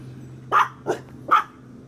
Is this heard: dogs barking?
yes